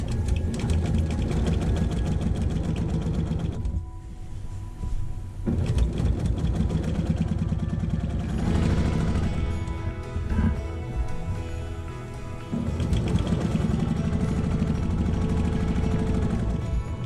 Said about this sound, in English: I'm going to sew around the edge here